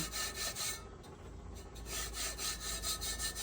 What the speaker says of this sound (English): I usually just keep rubbing until I don't see anything else falling down